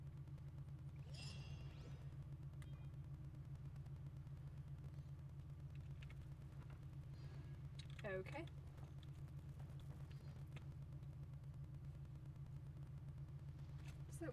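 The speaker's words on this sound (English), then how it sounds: "I was hearing like a weird rumbly noise. I think it's just a car engine." A car engine rumbles outside a window, a low, steady drone that runs continuously under the room and a game's sounds, with a person speaking briefly.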